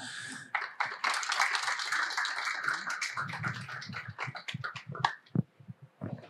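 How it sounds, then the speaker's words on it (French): Audience applause at a zero-waste conference welcoming the speakers, a burst of clapping that builds quickly then thins into scattered claps and fades. "je vous demanderai de les accueillir par vos applaudissements"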